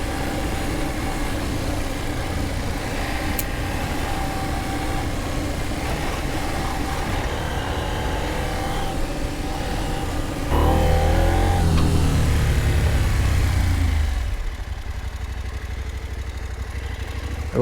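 KTM 790 Adventure R adventure motorcycle ridden on muddy single track, its engine a steady loud drone that swells into a heavier revving burst partway through before easing back.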